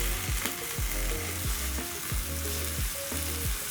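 Chicken pieces seasoned with paprika and black pepper sizzle steadily in a frying pan, with repeated short scraping clinks as the pieces are turned over, close and fairly loud, with no talking.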